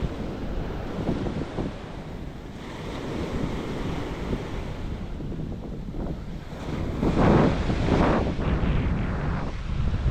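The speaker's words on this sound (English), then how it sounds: "these waves are killer" Ocean surf on a Captiva beach washes in continuously, with waves building and breaking more loudly toward the end, under steady wind buffeting the microphone.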